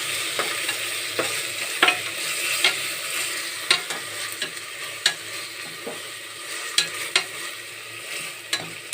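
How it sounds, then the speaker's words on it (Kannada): Chopped tomato frying with ginger-garlic and coriander paste in a pan: a constant bright sizzle broken by frequent sharp spoon taps and scrapes against the pan, close and with no voices. "ಒಂದು ಟೊಮಾಟೊ ಹಾಕಿ ಥರ ಚೆನ್ನಾಗಿ ಫ್ರೈ ಮಾಡ್ಕೋಬೇಕು"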